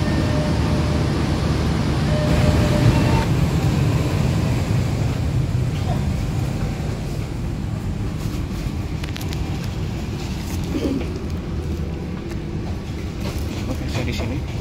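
KA Dharmawangsa passenger train with a CC 203 diesel locomotive from the Jember depot, giving a loud, steady engine rumble that continues without a break.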